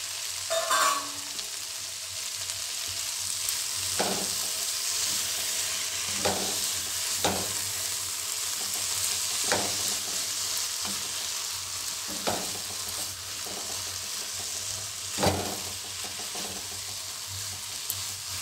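Rajma masala sautéing in a pan, a steady close sizzle with periodic scraping strokes of a spoon stirring the mixture, no voices.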